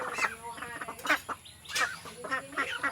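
Domestic ducks at a family home in Assam give a run of close, raspy quacks and clucking calls, several birds overlapping in quick uneven bursts.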